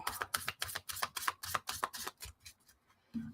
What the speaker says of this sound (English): so I'll just shuffle it some more now